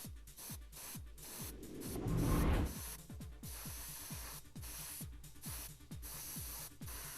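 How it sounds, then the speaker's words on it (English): An airbrush spraying Ammo by MIG acrylic primer onto a scale model Golf GTI body: a soft continuous hiss swelling into one louder burst, over a steady rhythmic pulsing from the compressor. "Just build up gentle coats by airbrush to get even coverage."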